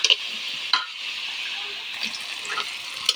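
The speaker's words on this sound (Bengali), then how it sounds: "এবার আমি কড়াইতে পেঁয়াজ দিয়ে দিয়েছি" Onions frying in a wok for a home-style chicken curry, giving a continuous close sizzle with a few sharp clinks of a spatula against the metal.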